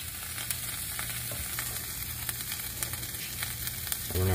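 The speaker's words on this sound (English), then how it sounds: "Smash her down, let her cook for another minute or two." A beef short rib burger patty sizzles steadily on a grill, a continuous crackling hiss with small pops, fairly quiet and unbroken, and a brief thump near the end.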